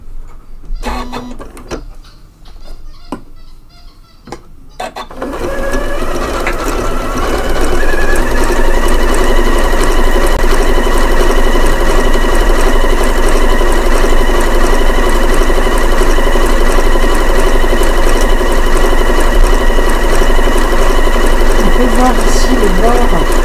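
A Janome Memory Craft 9480 sewing machine stitches fabric during a sewing lesson, starting after some brief clicks and settling into a loud, steady mechanical whir and hum that holds for the rest of the clip.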